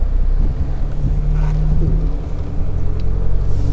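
Isuzu D-Max 1.9 Ddi diesel pickup, 2022 manual, with its engine running in a steady low rumble, heard close and continuous with a little wind noise.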